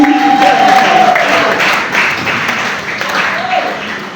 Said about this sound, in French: Encore des applaudissements pour elle, s'il vous plaît